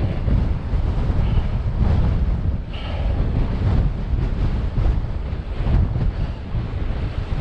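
Strong wind roars and buffets the microphone of a cyclist climbing a mountain road on an e-bike, a steady loud low rush with gusting swells and no speech.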